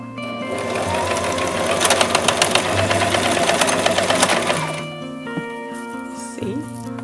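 A sewing machine stitches gold and white backdrop curtains, a close, steady whirring run with rapid needle clatter lasting about five seconds, then slowing to quieter mechanical clicks and handling sounds.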